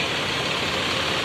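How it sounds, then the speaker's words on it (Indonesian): The ALS 253 executive-class coach bus, a Patas AC toilet service from Medan to Jogja, idles on arrival with a loud, steady, broadband engine rumble and no pauses. "sudah hadir juga bus LS 253 Patas AC Toilet Eksekutif Plus dari Medan menuju Jogja"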